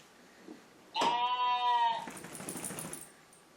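A single loud, quavering bleat sounds up close for about a second, followed by fainter rustling and shuffling.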